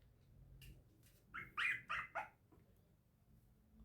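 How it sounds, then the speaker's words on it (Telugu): Several small puppies yip and bark in a quick cluster of four or five high-pitched calls, moderately close, over a low steady room hum. "చిన్న చిన్న పప్పీస్ అరుస్తున్నాయండి."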